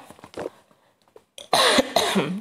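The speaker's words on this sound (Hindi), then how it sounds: "सॉरी खांसी हो रही है मुझे थोड़ी" A few light throat sounds give way to two loud, harsh coughs in quick succession, close to the listener.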